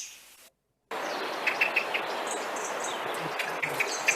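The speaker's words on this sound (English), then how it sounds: "the Blackbird just sounds just that little bit more mellow" Soft, mellow blackbird calls repeat at intervals over steady outdoor hiss. A few brief chirps stand out, with no one talking.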